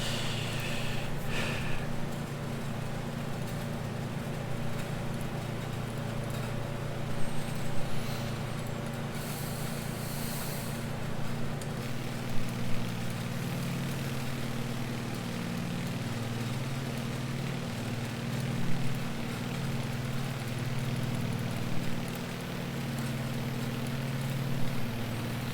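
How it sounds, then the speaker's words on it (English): A Beech 18 twin radial propeller engine drones steadily in Microsoft Flight Simulator 2020 during a flight, a continuous low throbbing hum with faint, brief clicks and no talking. "Give you guys some more airplane ASMR for a minute here"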